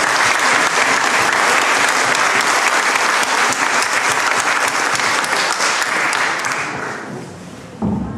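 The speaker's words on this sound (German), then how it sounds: "bitte nochmal um einen kräftigen Applaus für die Posaunenchöre" Loud, sustained applause from a church audience after a trombone choir concert, steady dense clapping for about seven seconds before thinning out, with a brief voice at the very end.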